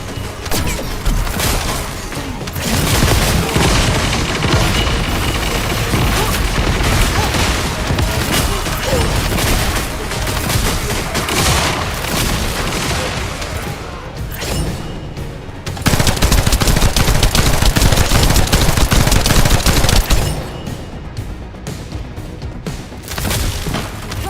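Sustained rapid gunfire and booming impacts bring down a Vulgus aircraft in the video game The First Descendant, a dense, loud barrage running nearly continuously with a brief lull and a heavier burst near the end.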